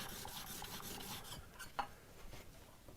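Plane iron rubbed back and forth on a sharpening surface, its underside being cleaned up: a steady rasping scrape, close and fairly quiet, that slows and thins out into a few sparse strokes toward the end.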